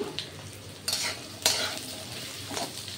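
Potatoes and cauliflower fry with spices for a samosa filling, a soft steady sizzle broken by a few sharper stirring scrapes of a spatula in the pan.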